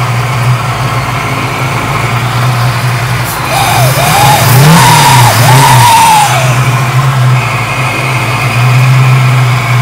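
The supercharged engine of a 1974 AMC Javelin hot rod runs loudly up close, a steady idle that rises through a couple of blower-whined revs in the middle before settling back to a rumbling idle.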